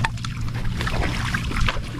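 A boat being paddled through water, with steady splashing and churning strokes close by, a continuous rough wash of water noise without voices.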